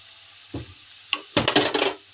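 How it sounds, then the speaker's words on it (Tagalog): Pork meat dropped into a pan with golden-brown ginger and garlic to sauté, heard as a couple of brief clatters, then a loud close burst of sizzling and stirring scrapes. "ilagay na natin yung karne natin na para ipapagisa natin tapos papalambutin"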